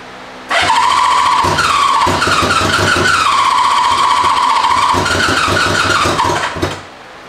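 A motorcycle left un-winterized idles unevenly on only two of its four cylinders, a loud, close, continuous raspy drone with a wavering whine that starts abruptly and cuts off near the end.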